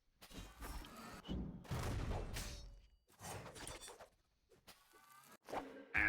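Bombs explode repeatedly in a Super Smash Bros. video game, a series of loud booming blasts with short gaps between them.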